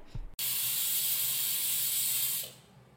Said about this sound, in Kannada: ಇದು ಕುದಿಯುವಾಗ ಕುಕ್ಕರ್ ಲಿಡ್ನ ಕ್ಲೋಸ್ ಮಾಡಿಬಿಟ್ಟು 1-2 ವಿಷಲ್ ಕೂಗಿಸಿದ್ರೆ ಆಯಿತು